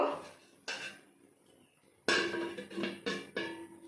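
A metal lid clanks onto a cooking pot of lentils, with a few separate close clatters and rattles and quiet pauses between them.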